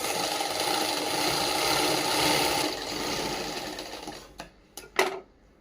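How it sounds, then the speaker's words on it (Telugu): Sewing machine running a steady straight stitch on a cut-work saree fall, a continuous whirring drone for about four seconds, then stopping with a few short sharp bursts as the machine is restarted. "పట్టుకొని ఇలా స్ట్రైట్ కుట్టు వేసుకోవాలి."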